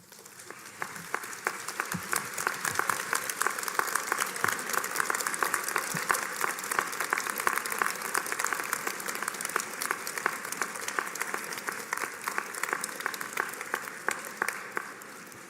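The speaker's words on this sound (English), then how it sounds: "now would be a good time to stand and applaud all who have helped you to get to this point in your lives" Sustained applause from a standing crowd at a University of Guelph convocation ceremony in a large hall, many hands clapping densely and evenly, swelling slightly and holding throughout before easing near the end.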